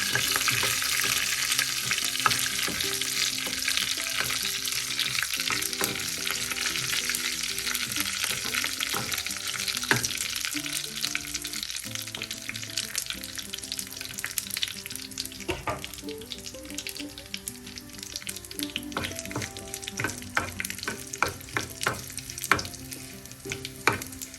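Mashed tapioca being stirred with chopped red chili and curry leaves in a pan crackles with a constant loud oil sizzle, broken by repeated scraping and clacking of the spoon against the pan.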